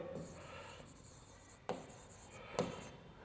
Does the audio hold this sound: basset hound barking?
no